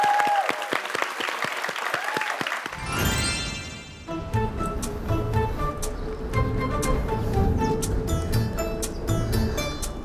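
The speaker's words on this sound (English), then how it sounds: "Let's welcome Jaewon from America with a great round of applause." A studio audience on a Korean culture competition show breaks into sustained applause for a performer, dense steady clapping that swells after brief rhythmic claps at the start.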